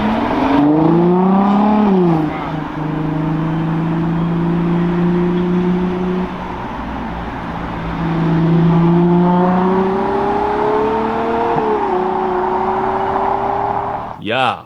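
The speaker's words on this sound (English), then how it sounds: "This time the subject is obviously the V12 engine," Ferrari Purosangue V12 engine revving up and down in long sustained sweeps, loud and close, with rising and falling pitch across several pulls and a brief burst at the end.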